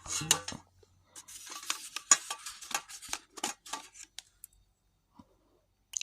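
Scissors handled up close: a quick series of light metallic clicks and snips, sparse and fairly quiet, with a few short pauses.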